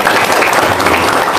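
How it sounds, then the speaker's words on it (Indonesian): A group of people applauds close by, loud and dense, a continuous wash of overlapping hand claps with no talking. "Tepuk tangan dong."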